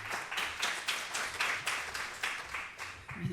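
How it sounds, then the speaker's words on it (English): A crowd applauds steadily, many hands clapping together in a dense, even patter that holds for a few seconds before easing slightly at the end. "Round of applause."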